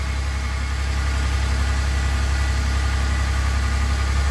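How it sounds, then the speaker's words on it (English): A cold RV transporter truck engine idles with a loud, steady, low rumble, its grid heater cycling on and slightly bogging the alternator, with no voices. "those little jumps are the grid heater kicking on, bogging down the alternator"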